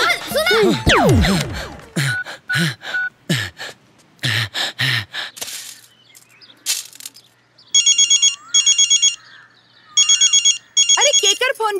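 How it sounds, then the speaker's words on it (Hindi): A telephone ringtone goes off in a Bhojpuri film scene, sounding as repeated bursts of electronic trilling in the latter part, after loud shouting, gasps and talk between people. "अरे केकर फोन बाजी अरे गोपाल के हो"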